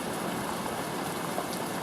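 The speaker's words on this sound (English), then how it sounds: "There's a pretty serious waterfall going on over there." A waterfall near a remote wilderness cabin in Alaska during heavy rain gives a continuous broadband rush of falling water, steady and fairly distant with no talk.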